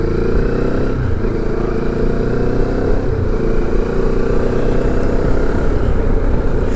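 A Benelli TRK 702 motorcycle fitted with an aftermarket exhaust can, its engine droning steadily while being ridden, a loud continuous low rumble with slight throttle changes and wind noise.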